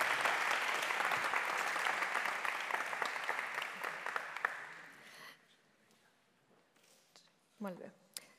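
An audience at a panel event gives a warm round of applause that lasts about five seconds before fading out, followed by quiet room noise and a brief voice near the end.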